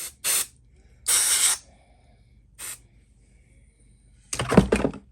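Short hissing bursts of an aerosol spray can coating a 3D Superman figure, four separate sprays of varying length close by, with a brief rustle of handling near the end.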